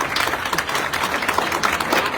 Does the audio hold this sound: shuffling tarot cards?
no